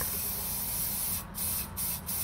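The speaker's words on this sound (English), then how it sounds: "So I'm going to spray top part." Gold spray paint hisses from an aerosol can onto a resin tumbler in steady close bursts, with a few short gaps between spurts.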